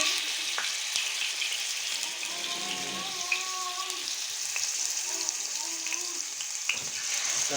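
Chicken malai boti skewers fry in hot oil in a pan over a low flame, a steady close sizzle with faint crackles and a few tonal squeaks from the pan, no voices.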